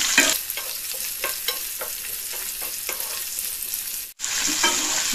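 Bell peppers sautéing in a pan over medium heat for rava idli, a steady loud sizzle with repeated scraping stirs through most of the clip, a brief dropout, then the frying resumes; no one speaks.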